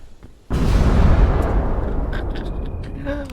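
A sudden loud dynamite explosion in the game Peak bursts in after a brief quiet moment, followed by a long rumbling roar that slowly fades, with faint chimes near the end.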